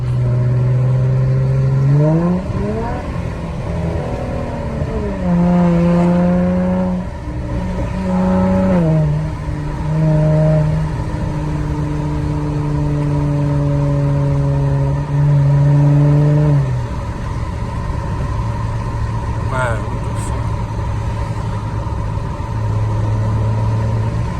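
Dodge Challenger engine from inside the car while driving at night, a loud steady drone that rises in pitch through several gear changes, then settles into a lower cruising hum.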